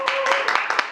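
Applause from a lecture audience at a Korean public talk on peace and unification, greeting the speaker; a short burst of close, rhythmic clapping from a modest crowd.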